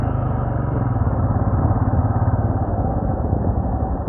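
A motorcycle ridden on the road from Jodhpur to Mount Abu, its engine a steady close throbbing drone with slight pulsing while trying to overtake slow traffic, loud and continuous.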